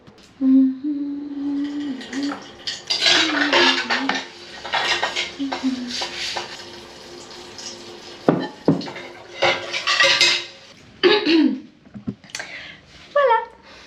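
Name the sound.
washing dishes with a sponge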